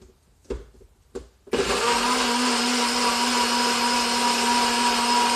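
A blender grinds fibrous produce for juice: a few short bursts and pauses, then a loud, steady motor roar running continuously to the end.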